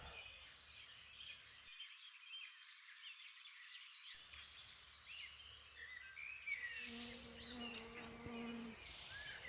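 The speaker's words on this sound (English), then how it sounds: "It's even buzzing insects, which is great. Buzzing bees." Bees buzz faintly in a quiet outdoor setting, a thin steady drone with occasional louder passes and soft chirps in the background.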